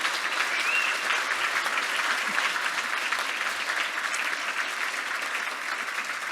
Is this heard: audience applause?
yes